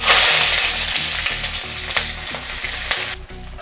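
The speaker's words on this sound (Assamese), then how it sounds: "ইয়াতে দিম এতিয়া কাটি ৰখা পিয়াজ" Loud, steady sizzle of onions frying in hot oil, with faint rhythmic scraping or stirring knocks throughout; the sizzle drops off near the end.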